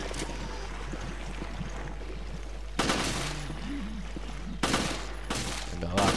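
Bursts of rapid gunfire in Resident Evil Revelations break out in three loud clusters over a steady background rumble, with quieter muffled sounds between them.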